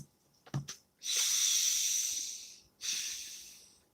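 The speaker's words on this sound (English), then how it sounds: "Breathe." A deep breath taken alone and close: a short sharp intake, then a long drawn-out hissing exhale, followed by a second breath that starts as the first fades.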